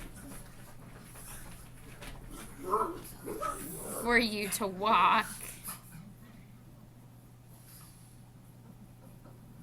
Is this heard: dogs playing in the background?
yes